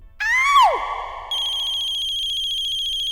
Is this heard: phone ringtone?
yes